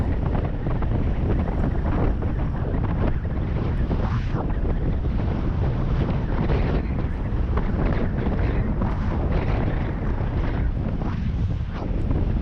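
Steady, loud wind roars over the microphone of a road cyclist riding fast in a group near 30 mph, a continuous buffeting rush with no break and no voices.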